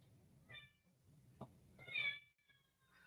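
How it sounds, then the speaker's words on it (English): A pet cat meows from another room, a few short, thin cries with a brief knock between them, faint and distant against a quiet room. "I heard my kitty cat screaming in the other room"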